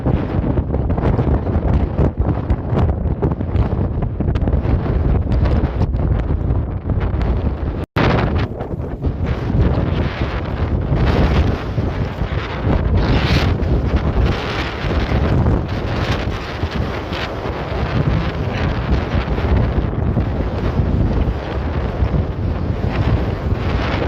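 Heavy wind roars and buffets the microphone on a snowy high-altitude hike on Mt. Sherman, a loud continuous rush with gusts and one brief dropout, no voices.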